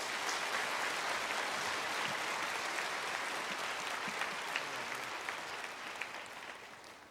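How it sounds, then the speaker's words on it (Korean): A church congregation at a special dawn revival service gives warm applause to welcome the guest pastor, continuous dense clapping that sounds somewhat distant and quiet, slowly tapering toward the end. "우리 따뜻한 박수로 환영하겠습니다."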